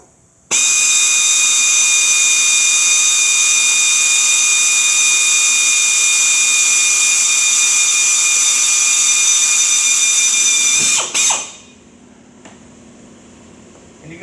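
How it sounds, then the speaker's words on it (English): A power drill bores steadily with drill bits during parking brake and light repairs on a skoolie bus conversion. The loud, continuous whine holds for about ten seconds, then winds down and stops. "don't use cheap drill bits, because I'd still be drilling"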